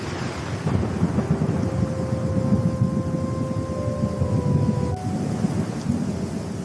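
A thunderstorm in a cartoon, with heavy steady rain and low rumbling thunder filling the scene, while faint tonal siren-like lines run through the background.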